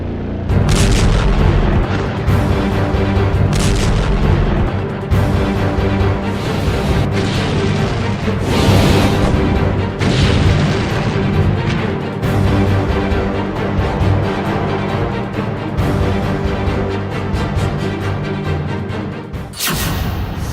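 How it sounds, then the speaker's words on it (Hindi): Heavy booms and rumbling blasts from a missile launch and artillery fire in wartime combat, loud and continuous with repeated thuds over a dense roaring bed. "इजराइल पर पहली मिसाइल लॉन्च"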